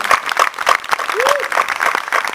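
Live-concert audience applause, a steady wash of many hands clapping with rhythmic bursts, fairly loud and close, with a brief tonal sweep partway through.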